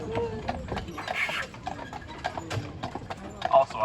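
Horses' hooves clip-clop on pavement as they pull a carriage through the streets of Mackinac Island, a steady, fairly close rhythm of hoofbeats running under a tour guide's continuous talk.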